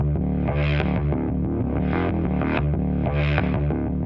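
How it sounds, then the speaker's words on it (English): Gritty, heavily distorted synth bass run through a guitar cab emulator, with a growling, sustained tone that swells and shifts in brightness as the highs move, playing a slow pattern. "if I throw a guitar cab emulator on a synth bass and make the high frequencies dance"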